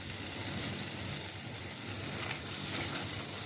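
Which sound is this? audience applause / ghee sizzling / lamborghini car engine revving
ghee sizzling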